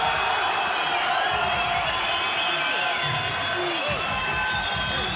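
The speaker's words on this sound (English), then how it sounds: "The crowd behind Chikh Mousa, you can see him rallying there." A large kickboxing crowd at a featherweight title fight cheers and roars steadily behind fighter Chikh Mousa, a dense continuous wall of shouts and whoops with scattered voices rising above it.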